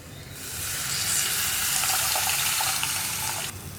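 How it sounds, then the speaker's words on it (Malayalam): Tamarind water pours steadily into a pan of rasam for a few seconds, a continuous splashing hiss that starts and stops cleanly. "ഇനി നമ്മുടെ പുളിവെള്ളവും കൂടി ചേർത്ത് കൊടുക്കാം."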